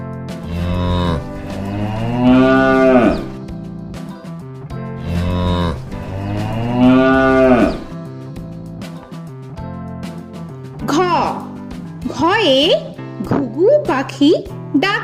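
Long, drawn-out cow moos sound twice over background music in a Bengali children's alphabet song, followed by a livelier sung or voiced melody; the mooing is loud and close.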